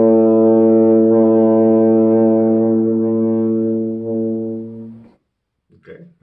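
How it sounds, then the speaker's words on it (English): A baritone euphonium fitted with a purple plastic Kelly mouthpiece sounds one loud, steady, rich brass note held for about five seconds, tapering slightly before cutting off, followed by faint brief movement sounds. "This is the Kelly baritone euphonium trombone mouthpiece."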